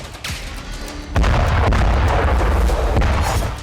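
Heavy Russian artillery fire from a 200th brigade position in the Ukraine war, loud booming blasts with a sharp onset and a sustained roaring rumble, several reports close together with no talk.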